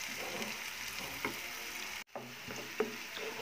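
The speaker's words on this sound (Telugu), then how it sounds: "ఇప్పుడు ఇందులో కట్ చేసుకున్న ఆనియన్స్ ఫ్రై అవ్వాలి." Chopped onions fry in hot oil with curry leaves for a ridge gourd and prawn curry, giving a steady close sizzle with faint stirring scrapes and a brief cut in the middle.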